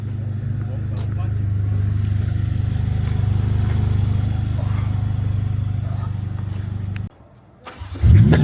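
A Ferrari in Stade Bauer, a football stadium: a steady low engine rumble runs for several seconds, cuts out abruptly, then bursts back loudly as the engine fires and revs, with people talking nearby.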